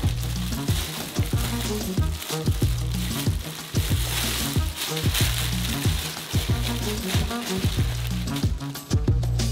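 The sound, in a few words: chocolate melting and stirred in saucepan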